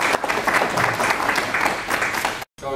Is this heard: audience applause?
yes